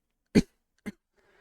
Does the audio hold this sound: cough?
yes